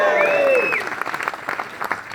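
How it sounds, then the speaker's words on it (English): A live audience at a wrestling podcast taping cheers and applauds loudly; a whoop rises over the crowd at the start, then dense clapping continues with the cheering tapering off. "Bigger cheer."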